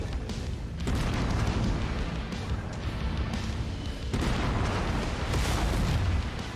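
Explosions and booming weapon fire in the mech combat video game Mechwarrior 5: Mercenaries, loud continuous rumbling with two sharp blasts surging in, one early and one partway through, dense and close.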